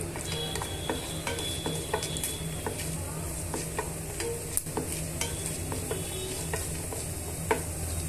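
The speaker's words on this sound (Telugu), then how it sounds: "ఈ పోపు దినుసులు అన్నింటినీ కూడా వేయించుకోవాలండి" Steady sizzling of tempering spices frying in oil for a brinjal peanut-masala dish, with frequent clinks and scrapes of a spoon stirring the pan; no one speaks.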